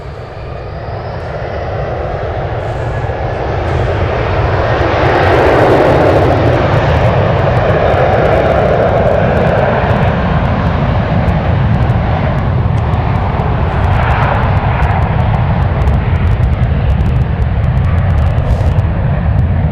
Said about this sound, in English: JetBlue getting ready to take off. We're gonna pump up the sounds.